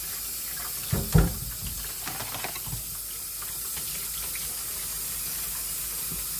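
Fish being washed under a running kitchen tap, with a steady stream of water splashing into a sink, a few brief knocks and handling clatters near the start, then an even flowing wash with no voices.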